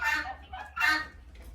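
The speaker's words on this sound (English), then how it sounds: "here comes a rooster up behind" A rooster on a farm gives two loud, close clucking calls in quick succession, with a steady low rumble underneath.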